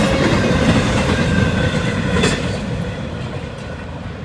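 A freight train led by a GE GEVO locomotive rolls past, a loud, broadband rumble and steady rail roar up close that slowly eases off toward the end.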